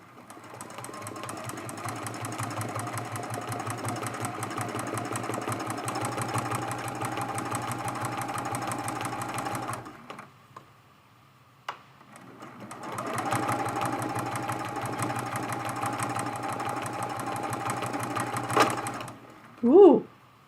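Sewing machine stitching appliqué pieces on a quilted mug rug, a steady close mechanical whirr that runs for about ten seconds, pauses, then resumes; someone speaks briefly near the end.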